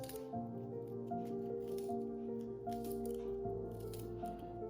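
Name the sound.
cutting garlic into small cubes by hand with a knife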